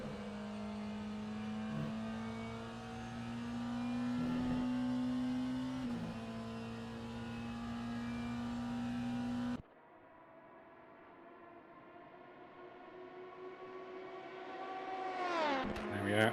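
Race cars drive through the Porsche curves at Le Mans in a sim racing event, with a steady, droning engine note that rises and falls in pitch. A commentator talks over it. The sound cuts to another engine that revs higher toward the end.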